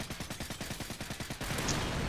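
Automatic gunfire in Call of Duty MW3 on the Wii, a rapid, evenly spaced burst of about a dozen loud shots that ends in a wash of noisy impact and explosion.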